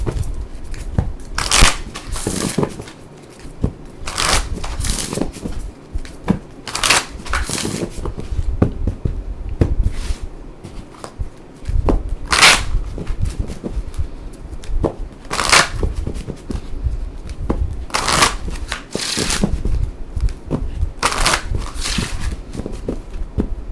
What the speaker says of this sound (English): So I will go ahead and shuffle everything up.